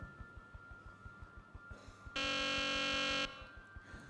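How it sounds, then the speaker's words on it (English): A loud electronic quiz buzzer at a quiz competition sounds once, a steady tone lasting about a second, preceded by a faint ticking countdown beat. "On the buzzer, Shami, with that answer there."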